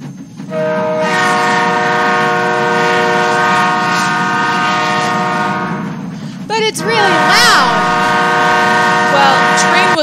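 A train horn sounds a loud, sustained blast lasting several seconds, followed by shorter sounds mixed with voices and other activity.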